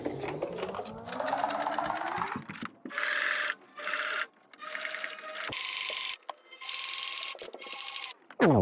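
A sewing machine sews a straight stitch on an outdoor pillow case, running in several bursts of rapid mechanical whirring separated by short pauses, close and fairly quiet.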